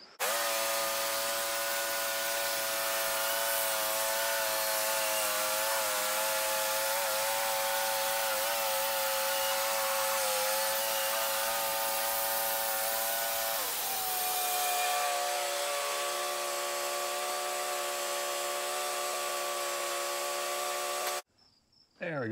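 A Wood-Mizer LT15 sawmill slices a hard maple log with a steady, loud engine drone and blade whine. The pitch drops partway through as the cut changes, then the sound stops abruptly near the end.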